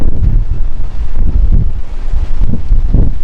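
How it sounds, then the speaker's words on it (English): Strong, steady wind gusts in a dust storm near Boise, Idaho, roaring and buffeting the microphone continuously with low rumbling surges, loud and close throughout with no talk. "Crazy amount of wind."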